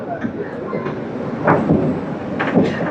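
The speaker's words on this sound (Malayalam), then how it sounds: "ഇപ്പൊ ട്രെയിൻ മൊത്തം കാണാം കേട്ടോ" A train rumbles along with rhythmic clatter and a couple of louder swells, heard from close by with some faint voices mixed in.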